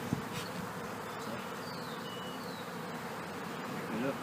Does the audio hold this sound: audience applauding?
no